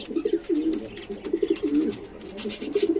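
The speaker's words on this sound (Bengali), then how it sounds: "আর নরটা দেখতেছেন ডাকতেছে" A male white King pigeon coos repeatedly at close range in a series of rhythmic, throaty bursts, with faint background noise between the calls.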